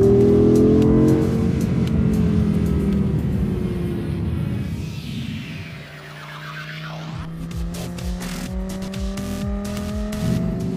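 An Audi R8 sports car drives past with a deep engine rumble that swells and shifts pitch, then revs through gear changes with brief tire noise, loud and close with no voices.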